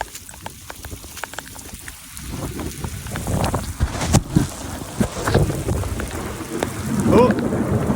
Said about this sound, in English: Thunder and lightning now.